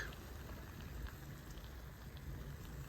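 Steady broadband hiss and crackle of a boneless Boston butt sizzling on a hot surface, continuous and close with no voices.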